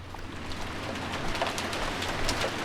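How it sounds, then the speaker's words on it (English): Steady rain falls in the Umineko visual novel game, a continuous hiss of downpour filling the scene with faint scattered patters and a low rumble beneath, no voices present. "Maybe the rain had died down a tiny bit since the previous night."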